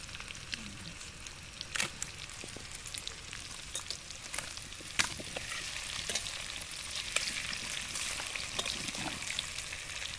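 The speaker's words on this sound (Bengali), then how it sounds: "আলুগুলো ভাজছে" Potatoes frying in oil for a Bengali-style duck curry cooked at a picnic, a steady crackling sizzle with scattered sharp pops and occasional stirring, fairly faint and without talk.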